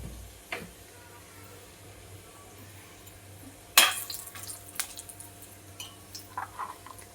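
Cumin seeds and a bay leaf hitting hot oil in a Kolhapuri chicken kharda pan, a sudden loud burst of crackling sizzle that settles into a steady fry with faint clinks of utensils, no talking over it.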